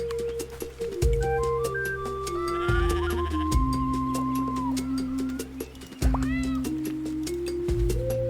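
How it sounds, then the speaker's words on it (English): A cartoon cat meows repeatedly in the video game Roots of Pacha, its bright mews standing over looping game music with shifting tones. "Pet the cat."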